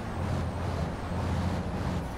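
A Freightliner Cascadia race truck in the FIA European Truck Racing Championship slows under braking, giving a steady, loud low engine and drivetrain roar with a hiss of air brakes, continuous and close throughout.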